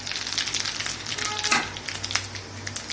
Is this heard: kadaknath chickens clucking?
no